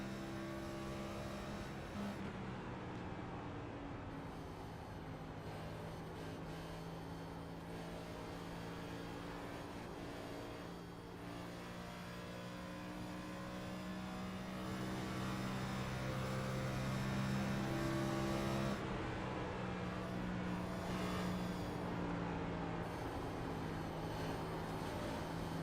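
A race car engine drones steadily while lapping Homestead Miami Speedway in a racing video game, faint and continuous with sustained tonal whine that rises slightly partway through, no voices.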